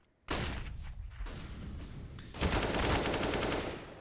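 Rapid bursts of Glock pistol fire in the game CS:GO during a professional match retake, several sharp shots in quick succession followed by a denser, louder volley, with no talk over them.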